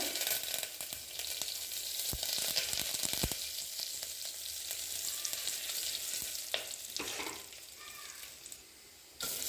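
Dried red chillies and curry leaves fry in hot oil for a radish chutney, giving a steady, dense sizzle throughout with a few sharp clicks of stirring against the pan.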